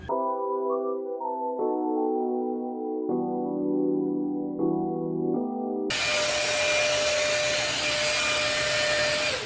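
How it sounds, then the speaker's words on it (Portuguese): A hair dryer blows on hair being dried strand by strand, kicking in partway as a loud, steady broadband whoosh after a stretch of sustained tonal humming. "Então aqui eu vou mecha por mecha secar esse cabelo agora."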